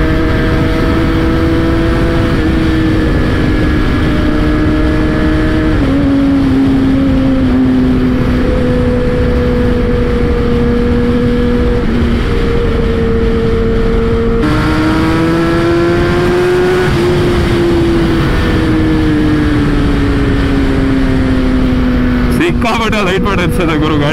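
A Kawasaki ZX-10R sport motorcycle on a winter test runs loud and close, its engine note rising and falling through repeated revs and steady holds, then a sharp burst of throttle near the end.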